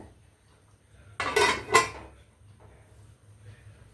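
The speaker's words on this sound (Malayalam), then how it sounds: "നമുക്കിത് അടച്ചു വെച്ച് വേവിക്കാം." A lid placed over a pan of egg curry, two quick metallic clanks close together, with a faint clatter afterward against a quiet kitchen hum.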